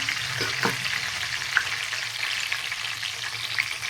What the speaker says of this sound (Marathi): दोन पड्या तेल घातलंय आता याच्यामध्ये ना थोडी मोहरी टाकायची जिरी घातली